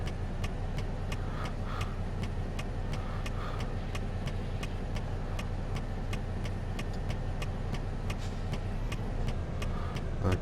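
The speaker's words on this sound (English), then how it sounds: "A constant barrage of cars." Steady, continuous traffic of passing cars on a road in Euro Truck Simulator 2, a constant engine and tyre drone with regular faint ticking, no voices.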